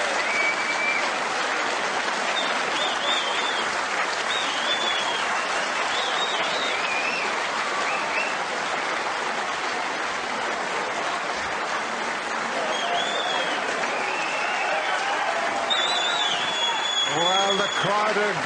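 A snooker crowd at the Crucible Theatre applauds loudly and without a break for the whole stretch, the dense clapping running steadily throughout, with a commentator's voice speaking over it.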